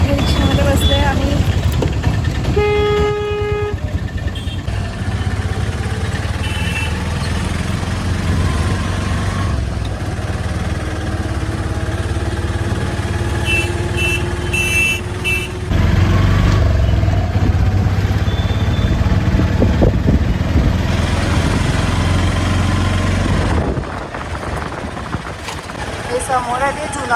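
An auto rickshaw's engine drones steadily through a ride away from Rajkot station, a constant low rumble with traffic noise around it and voices talking over it.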